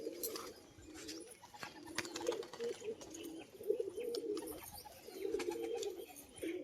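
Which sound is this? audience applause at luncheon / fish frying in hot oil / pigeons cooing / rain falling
pigeons cooing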